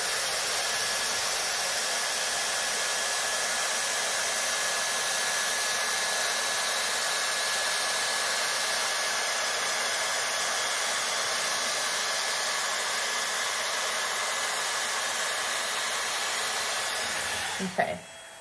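A Dyson Airstrait hair dryer-straightener blows steadily on hair, a loud continuous airy whoosh held for about seventeen seconds before cutting off abruptly near the end.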